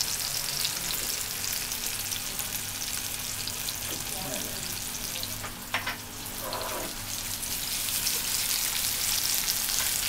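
Piquillo peppers and garlic fry with sugar as they caramelize, a dense steady hiss of sizzling oil with a few soft stirring scrapes midway, close and continuous without speech.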